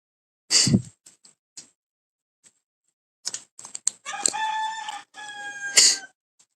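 A rooster crows loudly and close by in a long drawn-out call near the end, preceded by a few sharp clicks and taps.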